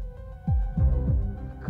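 A deep, throbbing heartbeat sound effect thumps several times in a slow rhythm, booming low and loud over a faint tonal hum.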